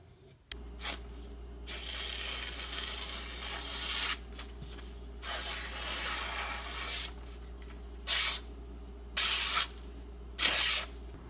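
A knife edge is stroked across a Strop Brothers strop loaded with white compound, a series of near, dry rubbing passes of varying length, separated by short pauses and growing shorter and quicker toward the end.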